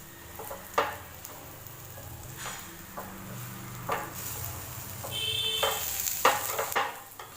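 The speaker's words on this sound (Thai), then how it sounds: "ทอดให้เหลืองสวยเลยนะคะ" Flatbread with chickpea flour and vegetables fries in a pan, sizzling steadily, with a few sharp clatters of a spatula against metal and occasional louder crackling bursts.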